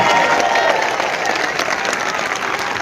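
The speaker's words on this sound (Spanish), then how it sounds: "Aplauso para la Iglesia de nuestro Señor Jesucristo." A church audience applauding at a Catholic gathering: dense, loud, continuous clapping from a large crowd, steady for the whole stretch.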